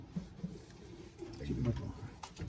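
Racing pigeons in a loft give a few low, soft coos close by, partly under a voice speaking nearby.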